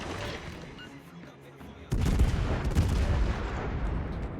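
Cruiser guns of the T10 Spanish cruiser Castilla fire in World of Warships, starting from a quiet rumble and then breaking into a loud, sustained barrage of booming salvos that lasts to the end.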